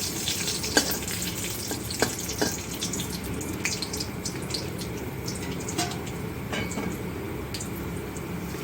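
Cashews fry in two spoons of oil for a chilli mushroom sauce, a steady close sizzle with occasional stirring clinks and scrapes, no talk.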